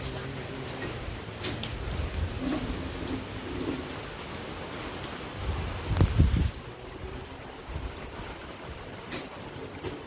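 Steady rain falls in a village during a storm, with a low rumble of thunder swelling near the middle and easing off while the rain hiss continues.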